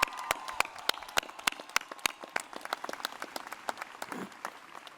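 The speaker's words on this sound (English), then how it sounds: "Let's give them a round of applause and recognition." Crowd applause at a college commencement ceremony, sharp separate claps ringing out over a quieter, thinning patter of many hands, heard from a distance in a large reverberant space.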